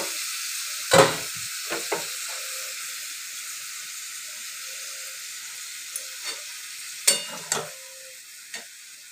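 Water is poured into a pan of frying prawns with red amaranth stalks and vegetables, setting off a steady close hiss of sizzling steam broken by a few sharp bursts and stirring knocks, with no talking.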